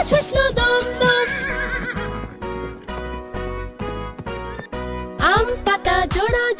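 A horse whinnies inside a lively Bengali children's rhyme song, the neigh rising in bright sweeps over steady music and rhythmic beats throughout.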